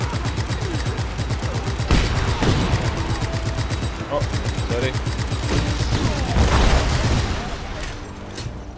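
Rapid gunfire and explosions from the open-world action game Just Cause 3 during a base assault, dense bursts of shots and booms running throughout, with a player's voice briefly speaking over the continuous combat.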